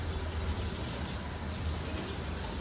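Rain falls steadily around a building terrace in a continuous soft hiss of drops, moderately quiet with no distinct individual impacts.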